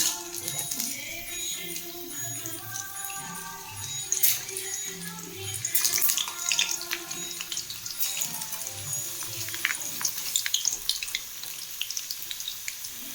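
Steady sizzling and crackling of food frying in hot oil, a dense continuous hiss with occasional pops and faint background sounds.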